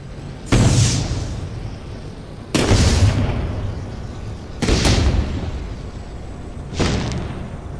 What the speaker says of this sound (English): Oh, those are cool fireworks.